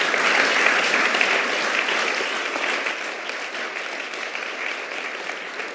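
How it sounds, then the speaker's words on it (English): Sustained applause from an audience, a dense steady wash of clapping that slowly fades a little over several seconds. "ask everybody to give them a big round of applause"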